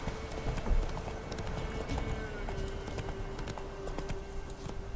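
Roach the horse gallops through Velen in The Witcher 3: Wild Hunt, a steady rapid clip-clop of hooves running continuously under ambient game sound, with occasional snorts and tack jingles.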